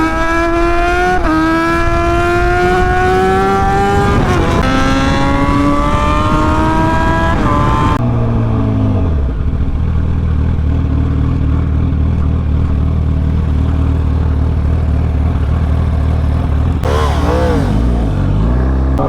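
A straight-piped Yamaha FZ1 motorcycle revs and rides fast, climbing through the gears with loud rising engine tones. Partway through it drops to a deep, steady low rumble before revving sharply again near the end.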